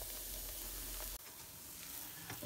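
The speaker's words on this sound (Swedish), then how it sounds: "Och så steker vi en liten stund på andra sidan så att den får en fin färg där." A pancake sizzles steadily in a frying pan on a stovetop burner, a dense close hiss with a brief break partway through and faint crackles, no voices.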